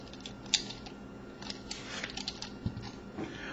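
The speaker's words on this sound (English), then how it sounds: "you can hear the much stronger clicking mechanism as well on this puzzle" Scattered sharp clicks and small mechanical snaps come from an Eni puzzle's clicking mechanism as its parts are turned. They are close but quiet, with no talking.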